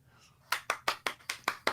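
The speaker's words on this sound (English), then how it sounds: "Clap, clap," Seven sharp hand claps in a steady, even rhythm, close and fairly loud, following a short stretch of near silence.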